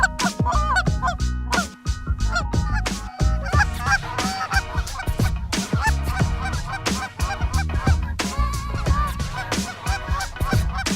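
Geese honk continuously in a dry field in Alberta, Canada, during a goose hunt: a loud, dense chorus of overlapping calls close by, with no one speaking.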